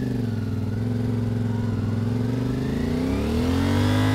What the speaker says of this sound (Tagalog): Tingnan nyo yung mangyayari sa makina. Sisigaw yan.